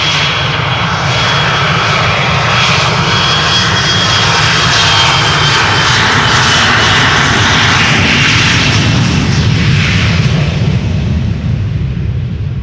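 An Embraer 175 jet takes off from Schiphol's Polderbaan runway, a loud, close, rumbling engine roar that stays powerful and crackling before easing slightly at the end.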